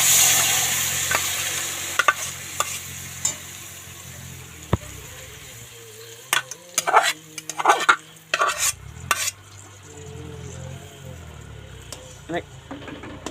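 Butter skimmed from milk cream goes into a wok to melt down for ghee, with soft sizzling, a spoon stirring and clinking against the pan, and scattered utensil knocks while a person talks.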